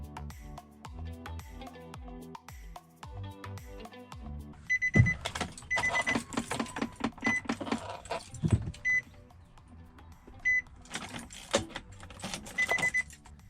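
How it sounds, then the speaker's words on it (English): A Nissan Titan truck being coaxed to start, keys jangling first, then repeated bursts of starter cranking and engine sputter, loud and close, with pauses between attempts and a chime beeping. "Let's see if my truck will start."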